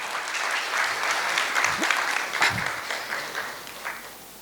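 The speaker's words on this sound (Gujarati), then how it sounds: "જોરદાર તાળીઓથી આ સર્વેને વધાવીએ" An audience claps loudly and steadily throughout, honouring organisers at a public talk on building a safe society.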